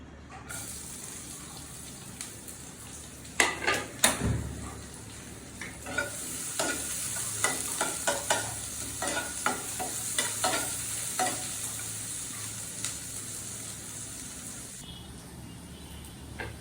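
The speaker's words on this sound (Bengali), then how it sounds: "এখন দিয়ে দিব পেঁয়াজ কুচি" Chopped onion hitting a hot pan for lentil dal, a sustained sizzle with repeated scraping and stirring clatters growing busier, close up with no speech.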